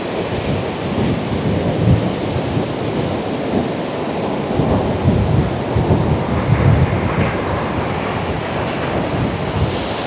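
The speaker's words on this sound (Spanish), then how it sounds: "también les quiero regalar este ruido de mar" Sea waves wash onto the Uruguayan coast at sunset, a loud, continuous rumbling surf with rolling swells and some wind buffeting the microphone, with no voices.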